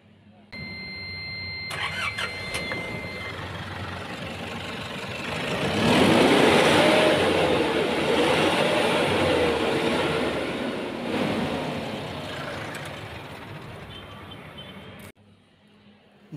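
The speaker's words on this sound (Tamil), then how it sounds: "இன்ஜின் ஸ்டார்ட் பண்ணி இன்ஜின்குள்ளே சவுண்ட் கேட்போம்." An Ashok Leyland Partner BS6 four-tyre truck diesel engine cranks, starts, and rises to a loud idle that settles into a steady rumble before cutting off, heard up close.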